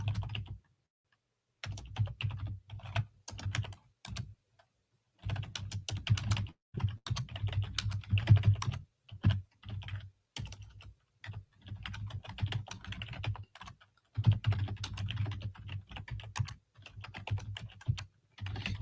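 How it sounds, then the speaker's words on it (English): Steady typing on a computer keyboard, keys clicking in quick bursts with short pauses between, close up and with no talking. "I'm just typing names and not talking whatsoever"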